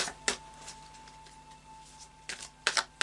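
A deck of tarot cards is shuffled by hand, giving a few soft, quick riffling clicks at irregular moments against a quiet room with a faint steady hum.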